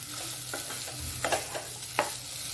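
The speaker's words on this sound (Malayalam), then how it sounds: "നല്ലപോലെ മിക്സ് ചെയ്തെടുക്കാം." Spicy potato samosa filling is stirred in a pan, with a soft frying hiss under repeated spoon scrapes and a few distinct knocks against the metal.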